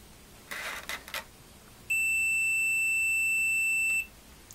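A digital multimeter's continuity beep while probing an Atari 800XL computer: a few soft scratchy probe contacts, then one loud steady high-pitched tone lasting about two seconds before cutting off, close and alone.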